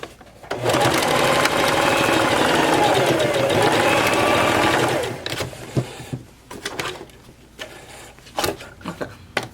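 A sewing machine runs in one continuous, loud, close whir while stitching a fabric rose, stops about halfway through, and is followed by softer handling noises and scattered light knocks.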